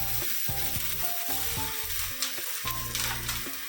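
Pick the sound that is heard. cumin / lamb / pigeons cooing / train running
cumin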